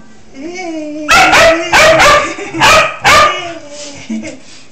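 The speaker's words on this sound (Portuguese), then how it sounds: "O nosso outro cachorro." A dog barks four times in quick succession, loud and close, with whining and soft vocal sounds before and after.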